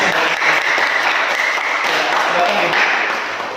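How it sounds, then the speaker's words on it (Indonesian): Students in a classroom clapping for a group after its presentation, a loud, dense and steady round of applause from many hands, fading slightly near the end. "Beri aplaus untuk kelompok 1"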